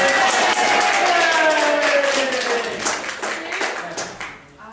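A round of applause from attendees at a hypnosis and NLP bootcamp, moderate clapping from a small group under a voice speaking, tapering off toward the end.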